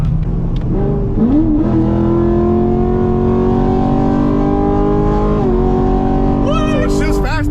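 A Chevrolet Camaro SS V8 engine rumbles loudly and steadily while cruising, its pitch rising briefly as the gas is tapped, with a sharper rev swelling near the end; people talk over the engine throughout.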